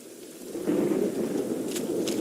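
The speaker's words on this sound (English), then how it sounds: "It just rains and rains." Rain falls steadily in The Witcher 3: Wild Hunt while thunder rumbles low and continuous, with a couple of brief crackling bursts near the end and no talk.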